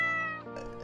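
A ginger house cat meows once, close and clear, with a drawn-out tonal call that dips in pitch toward the end.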